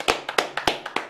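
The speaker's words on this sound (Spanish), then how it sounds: "Un aplauso a este muchacho muy bueno" A few sparse claps ring out at a Dominican political event for a young PRM pre-candidate in Santo Domingo Este, about six sharp separate hits in a slightly uneven rhythm, close and fairly loud, with no talking.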